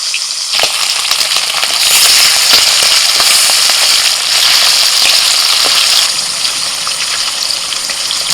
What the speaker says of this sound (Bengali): একে একে তেলের মধ্যে ইলিশ মাছের রিং পিসগুলো ভেজে নিচ্ছি